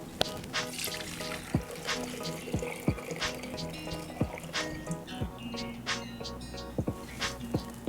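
Soy milk pours through a fine sieve into a container, a close, irregular run of trickling and dripping with small splashes, over faint background music.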